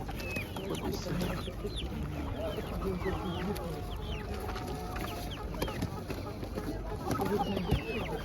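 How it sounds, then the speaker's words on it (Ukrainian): Several young laying hens cluck and chatter continuously, close by, with soft background murmuring from a busy outdoor market. "Курочки молоді, несучки."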